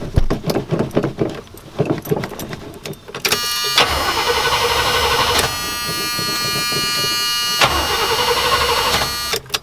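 The 350 Rocket V8 of an Oldsmobile Cutlass, after sitting for more than seven years, cranks on its starter. Clicks and short bursts come first, then a loud, steady whirring churn that breaks off and resumes without catching.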